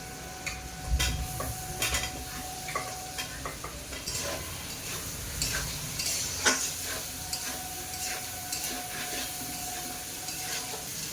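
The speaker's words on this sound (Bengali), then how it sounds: "আলু দেওয়ার পরে মশলার সঙ্গে বেশ কিছুক্ষণ কষেও নিয়েছি" Soaked potatoes sautéed with turmeric and spices in a pan for a hilsa and eggplant curry, a steady close sizzle with frequent scraping stirs and light clinks of a utensil against the pan, with no voices.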